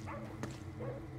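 A dog in the video game Ghostwire: Tokyo gives a short, soft bark or yip, fairly faint within a steady hum of game background sound.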